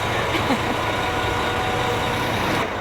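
A truck's engine runs with a steady, loud drone as it hoists a backyard storage shed onto its bed, with a faint beep or two over the noise.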